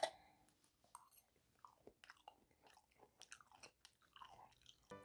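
Someone bites into a ripe peach and chews it up close, with soft wet crunching and smacking in irregular bursts over about five seconds.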